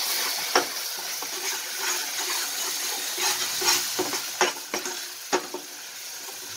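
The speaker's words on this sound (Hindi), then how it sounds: "गरम मसाला आधी छोटी चम्मच, धनिया पाउडर दो चम्मच, डाल के भूनेंगे" Garam masala and coriander powder frying in a pan for paneer pasanda, a faint soft sizzle with scattered light clicks and scrapes of a spoon stirring, no voices.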